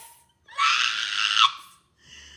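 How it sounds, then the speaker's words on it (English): A person gives one loud, shrill, sustained scream lasting about a second, close and piercing, with brief quieter sounds before and after. "they're gonna file a noise complaint on me for screaming your name"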